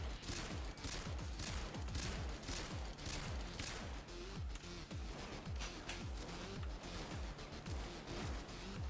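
Dense automatic gunfire from the heist shooter Payday 2, rapid repeated shots in long bursts with a few breaks, loud and continuous with no talk.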